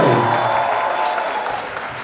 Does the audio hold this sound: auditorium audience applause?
yes